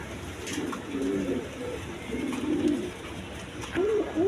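Colored pigeons, a pair sitting on two eggs, coo in repeated soft low calls close by, with steady background noise throughout.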